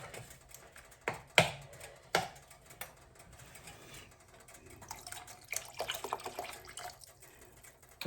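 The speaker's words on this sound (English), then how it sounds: "I'm going to just add a little bit of beef broth just to give it some depth." Beef broth poured into a pan of ground beef and Italian sausage pasta sauce, a faint liquid splashing and trickling with a few sharp clinks, close and without talk.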